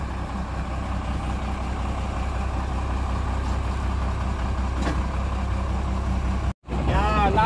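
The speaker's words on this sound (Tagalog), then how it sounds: "Andar na yung pump." A fire truck's water pump runs off the power take-off, a steady loud mechanical drone with engine hum that continues unbroken, then briefly cuts out near the end before resuming.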